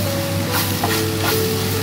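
Ground spices such as pepper and fennel powder being mixed into a frying pan for Malabar beef chatti pathiri, a brief loud continuous sizzle with soft stirring scrapes.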